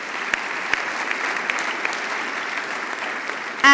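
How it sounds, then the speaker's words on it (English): A conference audience applauds a discussion panel with sustained, even clapping that fills the hall for several seconds. "a big round of applause for our panel"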